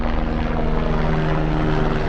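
A helicopter flies in the Himalayas near Annapurna, a steady, loud rotor and engine drone that stays constant throughout, with no voices.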